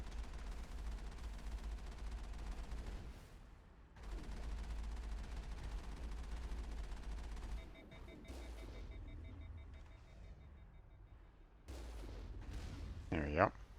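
Rockets falling in the Mass Effect video game, a long stretch of dense rumbling blasts and gunfire-like bursts, pausing briefly, then resuming, with beeping interface tones and a rising whine near the end.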